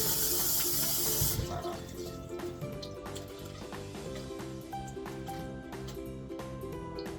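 Tomatoes are rinsed in a colander under running water, a bright rushing hiss for the first second or so, then softer splashing and dripping over background music.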